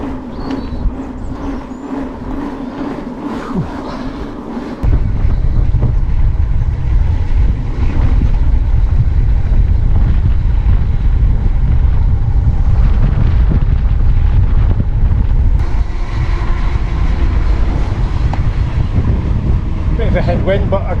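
Headwind roars against the microphone of a cyclist on a fast descent toward Clifford near Boston Spa, a dense, loud rush that surges in abruptly and stays steady throughout.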